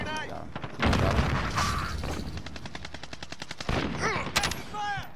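Rapid bursts of automatic gunfire and single shots ring out in a first-person shooter firefight, loud and repeated across the clip, with shouted voices and game effects mixed in.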